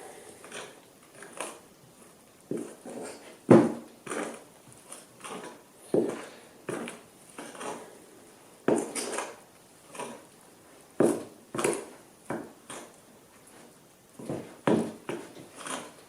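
Bread dough being mixed by hand in a bowl with a tablespoon of olive oil, heard as irregular soft, sticky thumps and squelches, close and fairly quiet, with no talking.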